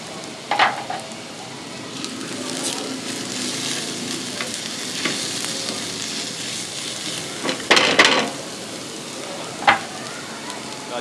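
Finely chopped garlic hits a hot pan with onions and fries with a steady, close sizzle. A few clattering stirs and scrapes rise above it.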